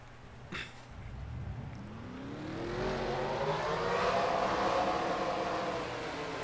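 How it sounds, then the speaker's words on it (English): Stock cars in a racing video game fire their engines at Bristol, a rough rumble rising into a swelling, layered roar of many engines that builds and holds, with a brief knock near the start. "Drivers, start your engines!"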